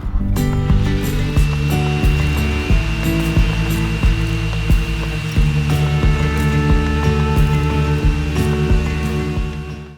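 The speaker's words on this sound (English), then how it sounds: "I'm going to make a start sanding these railings and spindles" A power sander whines and buzzes continuously at close range, its loud motor drone steady with small shifts as it moves over wooden railings and spindles.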